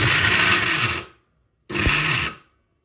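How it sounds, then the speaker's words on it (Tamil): A mixer grinder grinding dry nuts for laddu whirs loudly in two bursts about a second each, separated by a brief silence. "இப்போ இது நம்ம மிக்ஸி ஆன் பண்ணி விட்டுக்கலாம்"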